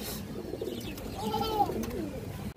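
Pigeons, a breeding pair of silver-colored birds, coo softly nearby with a rising and falling warble over steady background noise.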